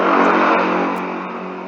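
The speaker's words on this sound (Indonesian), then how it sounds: "Terus hidupkan mesin dan set pada putaran idle 750 rpm, kurang lebih 50 rpm." A four-cylinder car engine runs steadily, set to idle around 750 rpm during a workshop tune-up, a loud continuous drone that eases slightly in level toward the end.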